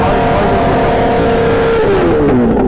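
Loud motorcycle engine revving during a burnout, a sustained high-pitched roar that rises and then slides downward near the end, close and dominant.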